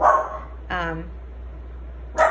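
Dog named Boy Scout barking in a short series, two or three sharp, moderately near barks with quiet gaps between them, followed by a clipped yip.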